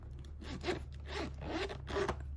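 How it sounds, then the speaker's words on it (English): The zipper on the inside pocket of a Louis Vuitton bag with a black suede interior is pulled in three quick, quiet rasping strokes, close up and heard alone. "And then here's the zipper for the inside pocket."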